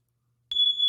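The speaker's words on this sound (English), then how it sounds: "Fire alarm's going off." A home fire alarm set off by oven use gives a loud, steady high-pitched electronic beep that starts abruptly after half a second of silence and holds without pause.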